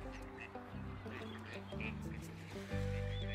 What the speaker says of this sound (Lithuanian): Vien pilkosios antis, smailio uodegės ir cyplės.